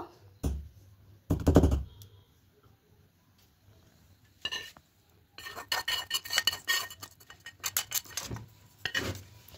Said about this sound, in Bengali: ক্যারামেলটা দিয়ে খুব ভালো করে মেশাবো।